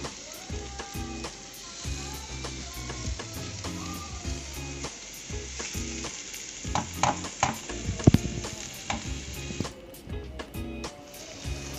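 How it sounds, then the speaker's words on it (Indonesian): Mushrooms stir-fried with garlic and prawns in a pan sizzle steadily throughout, with repeated scraping and clacking of a utensil against the pan, loudest near the middle and with no talking. "Kemudian tambahkan sedikit jamur. Lalu kita tumis lagi sampai agak matang."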